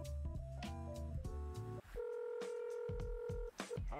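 Phone dialing in the video game Dave the Diver: a quick run of electronic keypad tones, then longer steady ringing beeps with brief gaps between them, all crisp and close.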